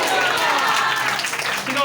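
A church congregation claps along during a Hindi-language sermon, with a dense, steady wash of hand claps filling the whole stretch at close range.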